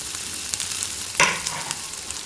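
Ivy gourd pieces dropped into a hot pan, giving a steady soft sizzle of frying with one brief louder burst as they hit the oil, close and alone with no talk.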